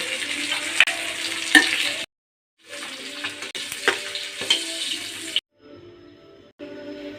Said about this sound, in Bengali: মাছের মাথা লাল লাল করে আমি ভেবে নিয়েছি এখন আমি তুলে নেব